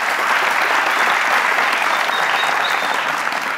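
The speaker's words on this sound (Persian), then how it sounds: "تشویق داشته باشین" Dense, sustained applause from a studio audience at a Family Feud–style television game show, loud and continuous throughout with no pauses.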